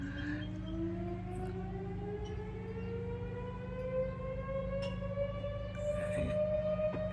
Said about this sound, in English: Hear the prison siren?